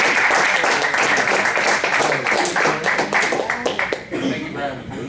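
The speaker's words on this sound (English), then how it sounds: "let's give him a big round of applause" Audience gives a big round of applause at a community mentoring event, loud clapping mixed with voices and some laughter that thins out toward the end.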